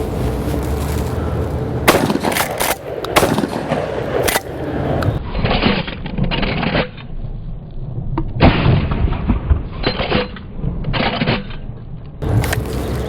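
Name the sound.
pump-action shotgun being fired and pumped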